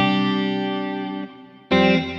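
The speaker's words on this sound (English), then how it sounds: "Reverb." A guitar sustains a chord through the reverb setting of an ART SGE multi-effects processor, the tone slowly decaying before a fresh, loud chord strikes and rings on.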